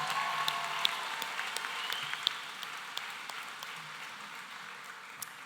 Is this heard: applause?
yes